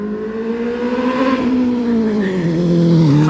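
A Kawasaki ZX10R motorcycle with an Arrow full exhaust system revs loudly and close, the engine note holding a deep roar with small rises and dips before settling lower, with no voice over it.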